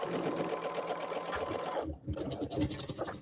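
A sewing machine runs steadily, stitching quilt blocks with a dense, continuous mechanical whir that breaks off briefly near the two-second mark before starting up again, close and fairly loud.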